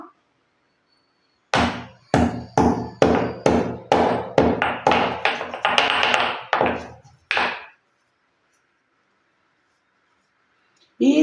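Black pepper pounded in a mortar with a pestle for a home tooth-cavity remedy: around a dozen loud, regular thumping strikes close by, then silence.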